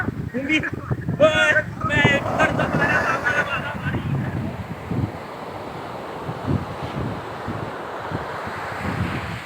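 Sea waves roll in at Kollam beach in Kerala toward evening, a steady broad wash of surf under wind buffeting the microphone, with a person talking over it during the first half.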